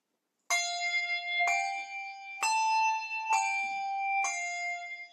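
Handbells at a bell table, rung in a weaving exercise: five separate bright strikes spaced about a second apart, each a clear metallic tone with a long ringing decay, close and alone.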